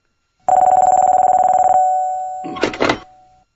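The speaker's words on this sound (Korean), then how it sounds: "그로부터 며칠 후 서주성의 여포에게 한 통의 전화가 걸려온다" A telephone rings in a radio drama as a sound effect: a loud, rapidly pulsing electronic ring lasting about a second, followed by a brief clatter as the receiver is picked up.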